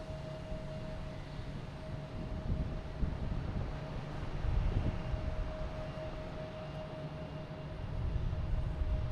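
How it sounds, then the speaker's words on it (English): Steady gusting wind roars across an open spot at Boston Logan Airport, a broad rumbling rush that swells and eases throughout with a faint steady tone above it and no talking. "The wind is finally getting to me."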